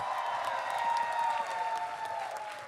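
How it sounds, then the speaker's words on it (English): Audience applause rings out for the AV team at a furry convention dance competition, a steady distant wash of clapping with a sustained tone running underneath. "Everyone, give them a huge round of applause."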